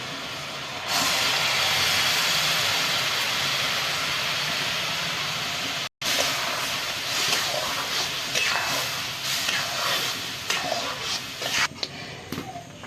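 Raw mango paste goes into hot caramelised sugar and water, setting off a loud, sustained hissing sizzle that cuts out for a moment and then continues, steady and close.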